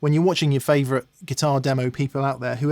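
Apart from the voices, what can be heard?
None of the usual background noises is heard.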